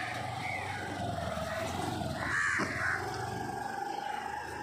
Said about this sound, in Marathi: हे बघा ते कावळे किती खात आहेत बघा